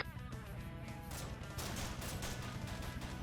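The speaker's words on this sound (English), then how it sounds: "Have them just follow the gunfire." Gunfire rattles through a Vietnam War video game, dense overlapping shots and bursts forming a continuous loud barrage that intensifies after the first second, with no talk over it.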